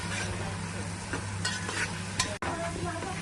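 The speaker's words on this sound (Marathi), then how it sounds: "अद्रक लसूणची पेस्ट टाकून याला काय केलं आता चांगलं तळतळून काढले" Ginger garlic paste fries in a pan for a veg pulao, giving a steady, close sizzle with scraping stir sounds and a low hum underneath, without any talk.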